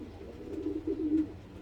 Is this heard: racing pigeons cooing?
yes